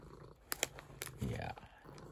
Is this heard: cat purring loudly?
yes